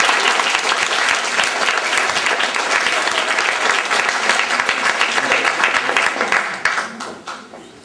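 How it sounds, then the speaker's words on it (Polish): A large audience at a children's and youth song festival in Lublin applauds the jury with loud, dense clapping that holds steady for several seconds and then quickly dies away. "Brawa dla jury."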